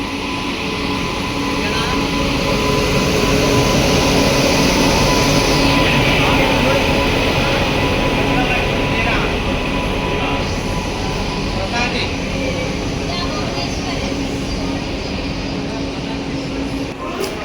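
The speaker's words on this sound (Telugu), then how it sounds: "ప్రశాంతి ఎక్స్ప్రెస్ వచ్చింది నిడదవోలు రైల్వే స్టేషన్కి వ్యాప్సన్ లోకోమోటివ్తో" Prashanti Express, bound from Bhubaneswar to Bengaluru, pulls into Nidadavolu railway station behind a WAP electric locomotive, a steady loud rumble and roar that continues throughout under station noise and voices.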